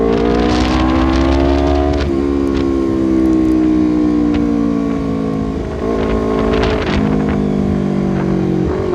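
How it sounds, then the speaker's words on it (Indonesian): Honda CBR 250RR motorcycle ridden fast on a Sunday morning group ride, its engine revving loud and close with rising and falling pitch through gear changes and a continuous high-pitched whine, with wind rushing throughout. "Ini motor itu nggak bisa pelan anjir, malah jadi kayak moge."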